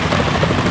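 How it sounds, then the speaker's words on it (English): A helicopter flies in the video game Metal Gear Solid 2, giving a loud, dense, steady rotor roar in a very short burst. "Is that a chopper I just heard?"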